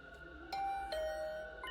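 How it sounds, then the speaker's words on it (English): A two-tone ding-dong doorbell chimes in the video game Hundred Line Last Defense Academy, clear and close against a quiet, low hum. "my doorbell suddenly rang"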